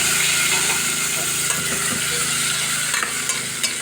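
Onion, papaya and mixed vegetables sauté in a pan for ginisang gulay, giving a continuous close sizzle with light stirring scrapes and clinks throughout.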